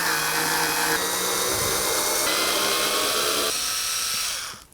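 Power driver spinning out the license plate bracket bolts on a 2016-2020 Kia Sorento front grille, a steady close whirring run of nearly five seconds that shifts pitch a few times before stopping abruptly.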